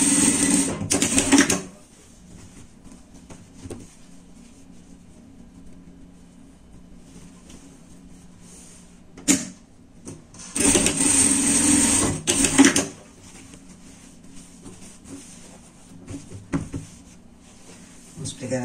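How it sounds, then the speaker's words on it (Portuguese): A sewing machine stitches the shoulder seams of a lined teddy-bear pet jacket in two loud bursts of rapid whirring, the second lasting several seconds, with quiet pauses and faint talk between. "Ombro com ombro aqui, vamos passar na costura."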